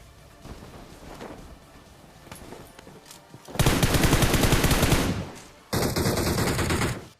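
A DP machine gun fires in the mobile battle royale game Battlegrounds. Faint distant shots come first, then two loud, dense bursts of rapid automatic fire, the second cutting in after a short gap.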